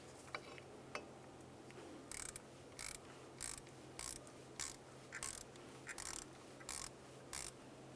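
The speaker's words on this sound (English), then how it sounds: "To remove this, use an 8mm. Come right in here to the mounting bolt and remove that bolt." A ratchet wrench with an 8mm socket backs out the mounting bolt of the rear parking brake bracket on a 2000-2006 Chevrolet Tahoe, giving about ten evenly spaced ratcheting bursts, close and crisp, with no talking.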